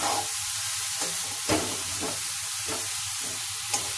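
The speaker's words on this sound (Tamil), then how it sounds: "நெய்யில கேரட் போட்டேன் இல்லையா, அதை நல்லா வதக்கிட்டேன்." Carrots sautéing in ghee for carrot halwa, a steady close sizzle with repeated scraping stirs every second or so, no voices.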